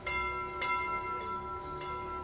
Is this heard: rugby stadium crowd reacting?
no